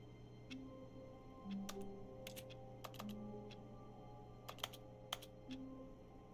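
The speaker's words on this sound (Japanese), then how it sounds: "キーボード叩いてるだけか" Keyboard typing in The Stanley Parable video game: sparse, crisp key clicks in small irregular clusters over a steady low hum, quiet and close, with no voices.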